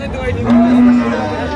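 A cow gives a single short, low moo close by at a cattle market, over a murmur of background chatter.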